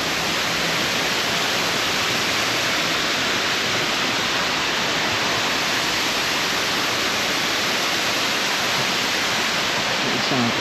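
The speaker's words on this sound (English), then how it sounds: "I bet there's a deep little waterfall right there. That's what it sounds like." Water rushes steadily at Yellow Branch Falls in South Carolina, a dense, loud, unbroken roar that fills the woodland air with no pauses.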